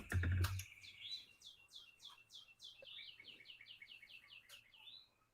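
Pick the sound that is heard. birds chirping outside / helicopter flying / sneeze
birds chirping outside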